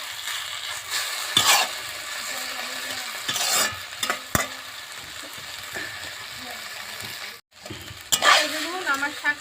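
Bathua greens being lightly stir-fried in a pan, with a steady low sizzle and intermittent scraping strokes of a spatula, several louder bursts of stirring, and a brief silent gap near the end.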